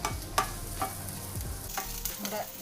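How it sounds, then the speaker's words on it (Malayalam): Shallots, garlic, curry leaves and fennel seeds frying in a pan for a bitter gourd curry give a continuous sizzle broken by several sharp spoon scrapes and stirring knocks, close up, with no talk. "കുറച്ച് കറിവേപ്പിലും കൂടി ഇട്ട്, 1/4 ടീസ്പൂണ് പെരിഞ്ചീരകം ഇതും കൂടി ഇട്ട് നമുക്കൊന്ന് വറുത്തെടുക്കാം."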